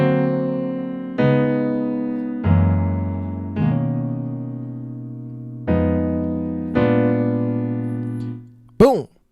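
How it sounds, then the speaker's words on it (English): Slow piano chords from the verse, six sustained chords struck one at a time, each ringing and fading before the next, ending in a brief sliding tone. "I'm going to play it for you slowly to eliminate all the confusion."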